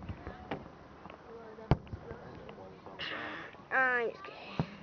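Fireworks go off outdoors at night with a few sharp pops and a whistling, crackling burst near the end, as people chat quietly between bursts.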